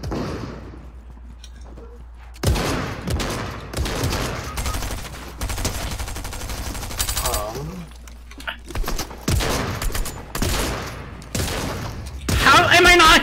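Gunfire in the video game Fortnite comes in several loud, sharp bursts and rapid volleys, with a player talking between and over the shots.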